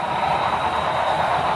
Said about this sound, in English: I intend to run 6 trains simultaneously, 2 on each figure 8